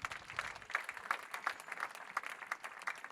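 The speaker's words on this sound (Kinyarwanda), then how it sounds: "Komera Imana amashyi." A church congregation gives soft, rhythmic applause, a steady run of distant-sounding claps lasting a few seconds with no voices over it.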